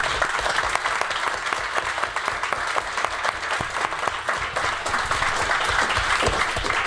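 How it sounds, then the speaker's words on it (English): An audience applauds after a philosophy talk on the ethics of killing animals for food, giving Bjørn Torgrim Ramberg a steady, dense round of clapping that stays even and sustained throughout. "we should give Bjørn Torgrim Ramberg a big applause"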